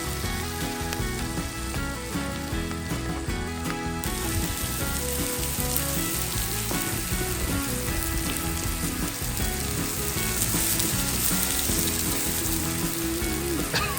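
Fillet and sirloin steaks sizzle and fry on a Kudu wood-fired off-grid grill, a steady, dense crackle that stays loud and close throughout with no talking.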